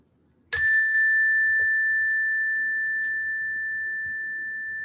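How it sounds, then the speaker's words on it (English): A meditation chime is struck once, ringing out clear and bright, then sustaining a long, pure tone that slowly fades in an otherwise quiet room. "with the sound of the chime, you can slowly open your eyes"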